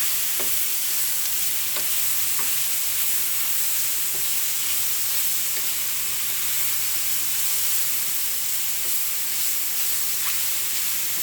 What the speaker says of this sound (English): get a nice little char on our veggies for our fajitas